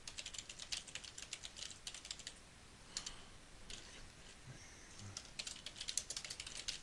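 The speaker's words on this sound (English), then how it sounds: "We're going to go ahead and type that in here" Typing on a computer keyboard, close and quiet, with rapid runs of light clicking keystrokes broken by short pauses and a few more distinct single taps.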